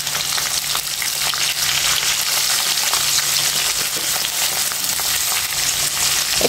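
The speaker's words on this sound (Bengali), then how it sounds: "কেটে রাখা আলুটা আমি এখন এর ভিতরে দিয়ে ভেজে নেব সুন্দর করে।" Cut potatoes frying in oil with cumin seeds and cinnamon, giving a loud, close, continuous sizzle with crackling spatters and occasional stirring, and no talking.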